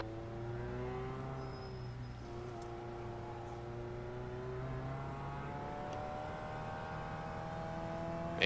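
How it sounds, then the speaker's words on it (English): A race car in iRacing, Mazda MX-5 Cup or Formula Vee on a road course near pit road, hums with a steady engine whine and layered harmonics as another car approaches, the pitch shifting gradually; fairly quiet and alone. "There's a car approaching."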